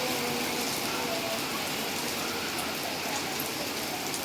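Heavy rain pours down in a dense, steady roar of hiss and patter, loud and close, with no break throughout.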